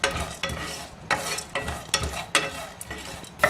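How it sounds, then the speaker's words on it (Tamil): Cloves, cardamom, cinnamon, cashews, roasted gram and poppy seeds are dry roasted and stirred in a pan for a peas masala gravy, giving repeated scraping stirs with a faint sizzle, close and moderately loud. "இதை எல்லாத்தையும் வறுத்தெடுக்கணும்."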